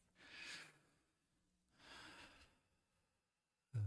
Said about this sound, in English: what works for me, which is a deep breath